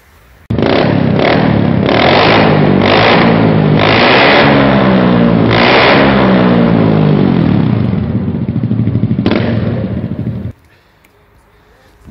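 A 2015 Honda Forza 300 motor scooter engine revs loudly and close, rising and falling in several bursts before cutting off abruptly.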